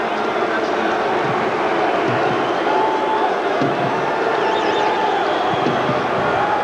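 Stadium crowd at a 1991 CFL football game between the Calgary Stampeders and BC Lions after a touchdown, a steady dense roar of fans under a commentator's talk.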